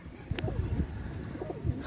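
Soft, rolling coos from Teddy pigeons repeat a few times, fairly close and unaccompanied, with a brief click near the start.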